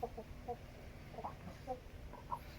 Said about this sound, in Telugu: అలాగే ఇది భీమవరం పెట్ట,